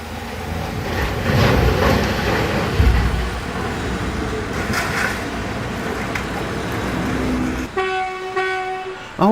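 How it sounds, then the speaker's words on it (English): Model Hornby Sentinel shunting locomotive working scrap wagons in a 1980s-style scrap metal yard layout, a steady close rolling rumble with soft clanks, ending in a brief high two-tone horn toot. "The loco then returns with the loaded wagon, and then heads back into the scrap line and buffs up to the wagon being loaded"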